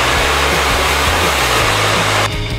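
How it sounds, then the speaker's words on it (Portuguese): A handheld hair dryer blows a loud, steady roar of air close by while straightening hair, its tone shifting slightly near the end as the airflow changes, with no voices. "vou passar o secador"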